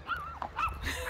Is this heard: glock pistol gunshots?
no